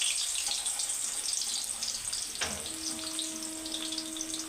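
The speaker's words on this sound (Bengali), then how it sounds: "তিতো করলাটা, উচ্ছেটা ভেজে নেবো।" Bitter gourd frying in a wok of oil, a soft steady sizzle close by, with a brief tonal clink partway through and no talking.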